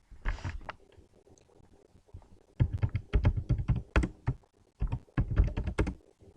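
Keys clack on a computer keyboard as an SQL cross join query is typed in Microsoft SQL, with bursts of rapid close taps separated by short pauses.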